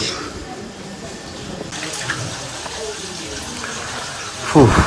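Hot spring water gushing from an outlet at a private hot spring on an eco farm campsite, a steady close splashing flow heard under people talking.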